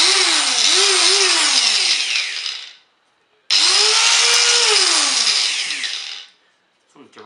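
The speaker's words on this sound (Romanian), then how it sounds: "Da, e normal, așa s-aude, așa s-aude la flexuri." A cheap variable-speed angle grinder runs in two loud bursts, each winding up to a steady high whine then spinning down, with a short silence between them.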